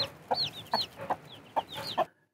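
Hens cluck in a village with yellow and black chicks among them; five short, close clucks come in a loose rhythm, mixed with high chick peeps, then fall silent.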